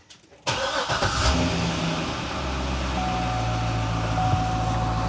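A car engine cranks and catches after a fresh six-quart oil change, then settles into a steady, close idle that hums on without pause; no one speaks.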